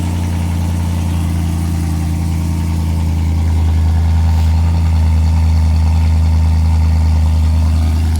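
A BMW E93 M3 engine idles loudly and evenly on a cold start, with a deep, steady rumble and a raspy tone from a standard exhaust, no voices over it.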